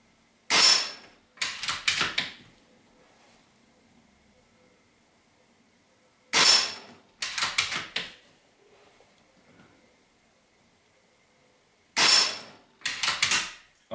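Three pairs of sharp mechanical snaps from a Mauser K98 PCP air rifle, evenly spaced about six seconds apart, each pair followed by a short rattle, in an otherwise quiet space.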